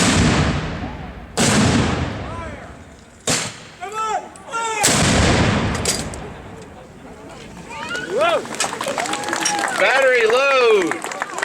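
A cannon battery at a Jamestown historical reenactment fires several loud, booming shots one gun at a time, each blast followed by rolling echo, with shouted voices and crowd sounds between the shots.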